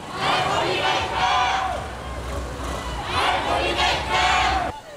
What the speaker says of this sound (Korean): 전국의 청소년들이 세월호 진실 규명을 외치며 금남로로 모여듭니다